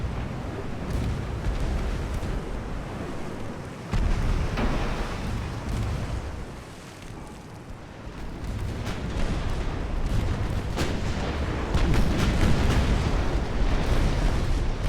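Naval gunfire thunders in the Ultimate Admiral: Dreadnoughts warship game, with 6-inch guns among the batteries. Heavy booming blasts and rumbling explosions overlap into a dense, loud, continuous barrage with no talk.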